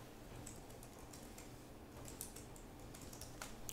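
Fingers tap out a password on a computer keyboard in a quiet room, a faint, irregular patter of soft clicks with a slightly sharper keystroke at the very end.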